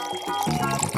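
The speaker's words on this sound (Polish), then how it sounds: "Dobrze, nalewamy." Milk with cocoa poured from a pot into a mug, a short steady liquid pour with a rising gurgle as the mug fills, close and fairly loud, no talking.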